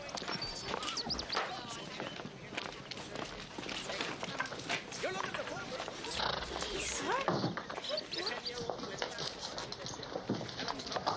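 Horses at a ranch, with hoof clip-clops, movement and whinnies mixing into a busy, close scene, while people talk throughout.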